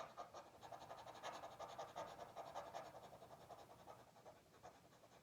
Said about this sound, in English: So let's quickly pant.